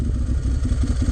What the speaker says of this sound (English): I don't know if you can hear that dry clutch. It sounds so cool.